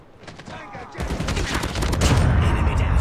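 Rapid automatic gunfire from the mobile shooter game Call of Duty Mobile, a dense burst that starts after a quieter second and keeps going loud and sustained to the end, with no talk over it.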